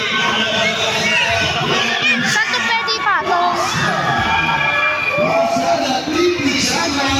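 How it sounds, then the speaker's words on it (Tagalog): A packed basketball game crowd roars and cheers continuously, with children shouting and nearby chatter woven through the din; someone close by speaks briefly over the noise. "Ang daming tao. Sobrang ingay."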